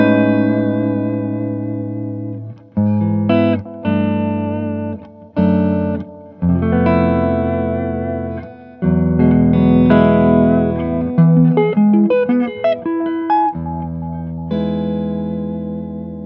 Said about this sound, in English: it's kind of like an elongated reverb